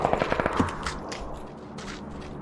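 Automatic weapon fire in a battle royale video game, a rapid burst of sharp gunshots at the start followed by a few single shots fading into background game ambience.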